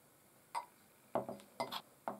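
Glass clinks from liquid glycerine being put into a glass, four sharp separate chinks spaced across a quiet background, close and clear.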